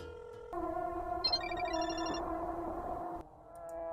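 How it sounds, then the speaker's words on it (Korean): An outgoing phone call rings with a steady electronic ringing tone that holds for about three seconds, fairly loud and close, with no talk over it before it cuts off. "자 아스카한테 전화합시다"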